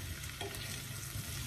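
Leftover boiled potatoes sizzle and crackle steadily in a frying pan, a close, continuous hiss with a brief stir or clatter partway through, no talking.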